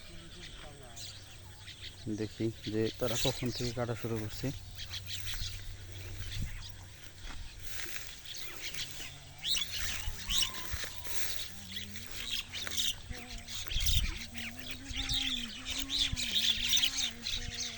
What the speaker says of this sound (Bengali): ও অনেক শালিক চলে আসছে ধান খেতে,